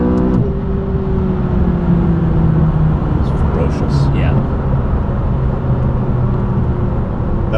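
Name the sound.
McLaren 570S accelerating hard through two gears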